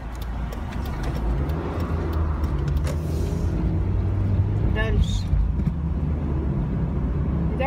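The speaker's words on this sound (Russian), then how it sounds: "А я иду к машине, и мы поедем с вами дальше." A car drives off from a beach car park near Larnaca, Cyprus, its engine rumbling steadily close by, with someone talking over it and brief rattles and squeaks partway through.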